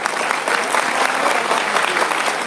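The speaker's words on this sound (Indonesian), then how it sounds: "Tepuk tangan semua." Loud, close applause from a gathered crowd at a formal Javanese event after a closing prayer and greeting, a steady, dense roll of many hands clapping throughout.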